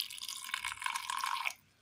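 Water poured into a spice mix of garlic, hot kanthari chillies, cumin and grated coconut, a steady trickling splash for about a second and a half that stops abruptly, close by and alone.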